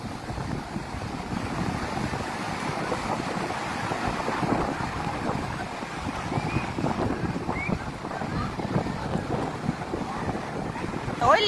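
Big sea waves and gusting wind on Vung Tau beach, a continuous rushing wash of surf with wind buffeting the microphone, fairly loud and steady with a brief louder burst at the end.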